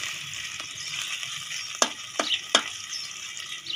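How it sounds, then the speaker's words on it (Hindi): Finely chopped, crushed ginger frying in ghee for spicy aloo bonda, a steady soft sizzle with a few sharper crackles and pops as it is stirred. "सबसे पहले घी में अदरक डालेंगे"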